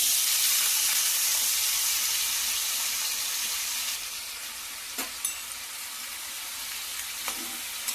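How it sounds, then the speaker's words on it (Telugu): Drained potatoes sizzle loudly in hot oil in a pan, a dense steady hiss that eases slightly over time, with a few sharp clinks and stirring knocks near the end. "మనం వడపోసుకున్న బంగాళదుంపల్ని కాగుతున్న ఆయిల్ అయితే వేద్దాము"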